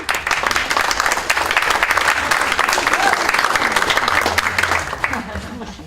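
Sustained applause from a lecture audience fills the room, dense and steady clapping throughout with a faint voice or two mixed underneath, fading slightly at the end.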